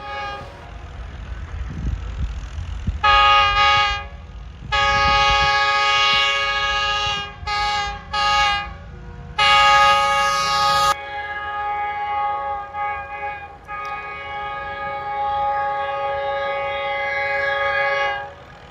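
A train hauled by a GU-class locomotive, GU49051, passes near Lahore, with loud blasts of its multi-tone horn sounding repeatedly over the rumble of the wagons, ending in a long sustained horn note.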